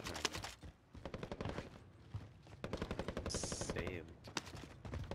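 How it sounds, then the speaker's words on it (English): Gunfire in the video game Call of Duty Warzone rattles in bursts of automatic shots, moderately loud and mixed with talk from players over the game audio. "Shooting downhill somewhere."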